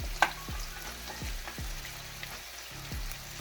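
Three eggs frying in a pan give a steady, close sizzle and crackle throughout, with a sharp pop near the start and soft scraping or stirring touches along the way.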